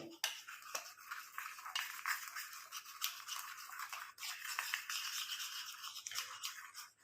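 Castor oil being stirred into a hair mixture in a small container, a steady close scraping and swishing that continues throughout with brief pauses, no voices.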